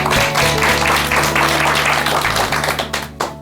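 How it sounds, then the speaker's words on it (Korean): A studio audience gives a loud, sustained round of applause as a documentary film director and professor is welcomed onto a Korean talk show, the clapping thinning slightly toward the end. "여러분 큰 박수 부탁드립니다."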